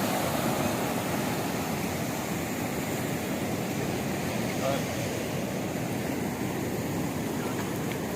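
Ocean waves at Goa beach wash in as a steady, broad roar of surf, close and continuous with no clear breaks, filling the whole stretch.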